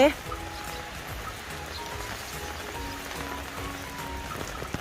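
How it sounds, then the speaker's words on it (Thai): Rain falls steadily around a baby elephant playing outdoors, a soft constant hiss and patter at low level, with a voice talking over it. "บรรยากาศตอนฝนตกนะคะ"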